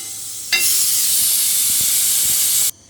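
A kitchen pressure cooker suddenly releases a loud, close jet of hissing steam that stays steady for about two seconds, then cuts off sharply.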